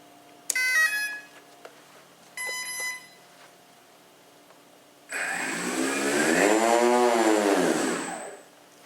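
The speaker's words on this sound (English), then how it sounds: "let's just hear the motor running" Electric motor on the XF1 plexiglass fixed-wing UAV spins up after two short electronic beep sequences, rising to a loud whine that climbs in pitch, holds and then eases down slightly, with no talking.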